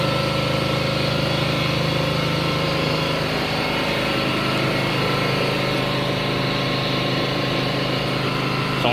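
A 2017 Nissan Rogue all-wheel-drive with its 2.5 liter engine runs steadily close by, a constant loud hum and drone that holds the same pitch throughout, with no voices.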